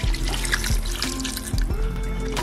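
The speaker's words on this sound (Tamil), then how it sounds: "நம்ம தண்ணி கொஞ்சம் தண்ணி ஊற்றி கறி வேகட்டும்" Water is poured into a cooking pot of chicken curry being made for biryani, giving a steady, close splashing pour with a few gurgling surges.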